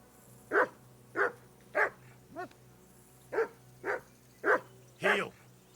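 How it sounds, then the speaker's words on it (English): A dog barks in Kingdom Come Deliverance II, eight sharp, evenly spaced barks over about five seconds against a low steady hum, fairly close and clear. "That barking was a pain in the ass."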